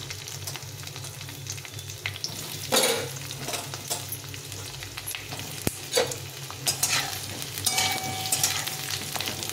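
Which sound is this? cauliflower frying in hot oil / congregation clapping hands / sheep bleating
cauliflower frying in hot oil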